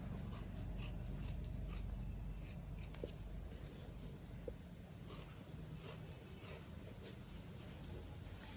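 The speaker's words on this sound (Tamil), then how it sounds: "இதில் வந்து ஒரு மார்க் பண்ணி வைக்கிறேன் தைக்கேக்கில் அந்த சென்டருக்காக" Marking fabric with chalk or pencil along the centre line of a frock being sewn: a steady scratchy rubbing, continuous and close, with a couple of faint taps and no talk.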